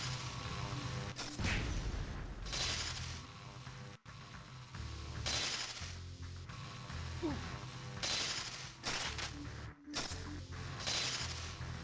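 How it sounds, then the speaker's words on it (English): Laser blasts in the video game Spider-Man (2000), coming as a series of sharp zapping and mechanical bursts over a constant game background, moderately loud, with brief dropouts between them. "Okay, quit shooting the laser."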